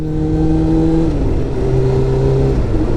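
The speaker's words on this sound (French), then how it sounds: "Mais on a franchement une belle accélération." A Suzuki GSX-R 600 sport motorcycle accelerating hard, its engine note loud and close with a steady roar that shifts pitch around a gear change, heard from the rider's position.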